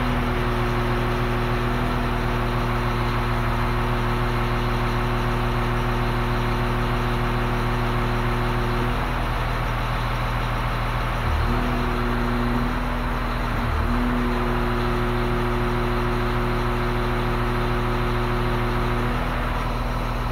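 Grader's axial piston hydraulic pump stalled at maximum pressure with the side shift at its far end, a loud steady engine drone with a constant hum and a couple of brief dips in tone.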